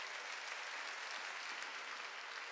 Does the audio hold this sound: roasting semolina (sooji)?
no